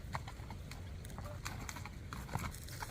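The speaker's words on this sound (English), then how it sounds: "He can gait faster than most horses canter." Soft, rapid hoofbeats of a bay and white spotted saddle horse at a fast gait, in a steady rhythm, somewhat distant and muffled under wind and background rumble.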